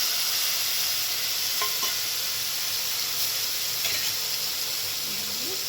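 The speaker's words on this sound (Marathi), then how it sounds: "छान परतून घेऊ." Bitter gourd sautés in a pan with turmeric and asafoetida, a continuous close frying sizzle and hiss with a few soft stirring scrapes, no voices over it.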